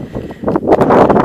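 Wind buffets the microphone on a countryside walk across fields, a loud, close, uneven rumble and rushing gust that builds toward the end, with no speech.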